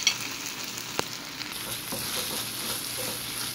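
Filling mixed with tomato sauce sizzles steadily in a frying pan while a utensil stirs and taps against the pan, with no one speaking.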